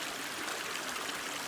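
A mountain creek on the Tahoe Rim Trail rushes and babbles steadily, a broad, even hiss of flowing water heard close up and alone, with no voices.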